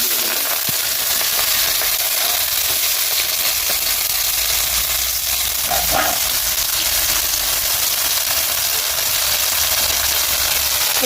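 Whole garlic and chopped onion fry in oil left from frying fish, producing a loud, continuous crackling sizzle with faint stirring scrapes, heard close and alone.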